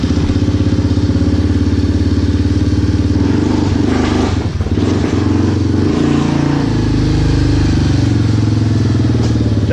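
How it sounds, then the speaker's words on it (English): A Yamaha Big Bear 400 ATV fitted with a new clutch kit idles and revs its engine steadily up close, the loud motor note holding throughout with a brief dip and surge midway. "You got to get the engine RPMs up there a little bit for it to take off"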